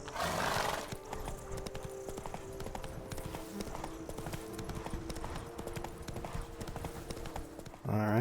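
Roach the horse's hooves clip-clopping in The Witcher 3, a steady rhythmic trot of hoofbeats running throughout, with a brief whinny near the end and game ambience beneath.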